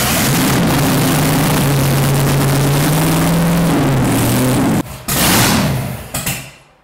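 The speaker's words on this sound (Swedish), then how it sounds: "Ja, den startar ju." A homebuilt tractor engine of roughly 700 horsepower fires up close by, a loud rumbling roar with a wavering low drone that briefly cuts out, then surges and fades.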